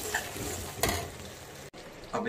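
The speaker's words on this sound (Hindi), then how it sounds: "ये ग्रेवी के लिए प्याज टमाटर पक रहे हैं।" Onions and tomatoes for a kadhai paneer gravy stir and sizzle in a pan, a steady close frying hiss broken by a scraping stir, with a brief cut near the end.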